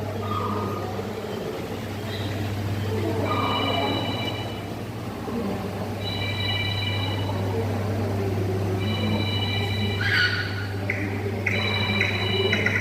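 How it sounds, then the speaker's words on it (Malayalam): A telephone rings in short repeated bursts at a steady interval over a constant low hum and a murmur of background noise. "അവിടെ ഫോൺ അടിക്കുന്നുണ്ട് അതിനൊരു സൗണ്ട് കേൾക്കുന്നു"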